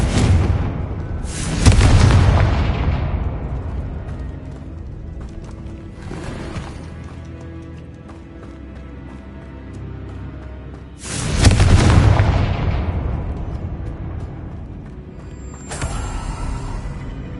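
Confringo spell blasts in Hogwarts Legacy on PS5: two loud, booming explosions with long fiery decays, separated by quieter rumbling game ambience and a brief sharp crack at the end.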